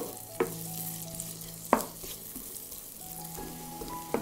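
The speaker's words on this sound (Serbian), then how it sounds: "Dodajem beli luk i pržit ću dok luk ne omekša." Onion and garlic frying in olive oil in a pan, a low steady sizzle with a few sharp clinks of a utensil stirring, fairly quiet and without speech.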